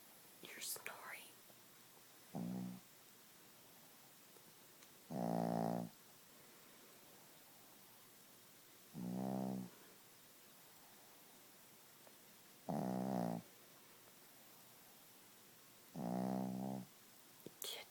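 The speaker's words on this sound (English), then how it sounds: "You're snoring. Can you calm it down a little bit, please?" A Chihuahua snoring: five evenly spaced, buzzy rasping snores, each lasting about a second, come every three to four seconds against a quiet background, with a faint burst of other sound at the start.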